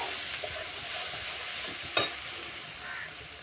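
Ground spices with chilli powder and salt being sautéed in a pan, a soft continuous sizzle with light stirring scrapes and one brief sharp clink near the middle.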